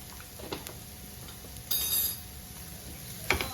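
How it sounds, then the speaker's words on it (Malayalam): Garam masala is stirred into a potato masala mixture for Kerala-style vada pav. Soft stirring scrapes and a few faint utensil clicks sit over a low, gentle sizzle. "അതും ചേർത്ത് കൊടുത്ത് നന്നായിട്ട് ഇളക്കുക."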